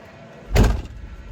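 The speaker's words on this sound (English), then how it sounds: "The weird thing is with this door, the more you slam it, the worse it shuts." A truck door slams shut once, a single loud, heavy thud with a short rattling decay over a quiet background.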